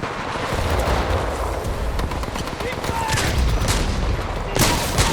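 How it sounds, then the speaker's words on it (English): Gunfire in the first-person shooter Titanfall 2, a dense rattle of shots and bursts with sharp cracks throughout, mixed with in-game action noise and a louder burst near the end. "the sound of gunfire will draw other players into the mix"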